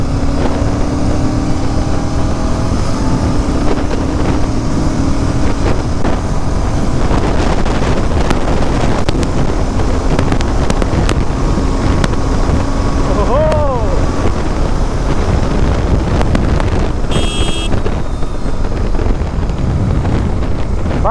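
A motorcycle carrying a pillion passenger runs fast on the Kalyani Expressway, its steady engine drone and heavy wind rush loud and continuous throughout, with a brief rising whine partway through.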